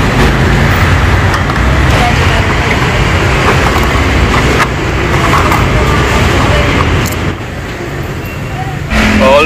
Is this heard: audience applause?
no